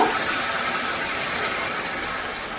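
Water poured into a pan while making pineapple kesari, a steady broadband rush of liquid filling the vessel, continuous and fairly loud throughout with no talking.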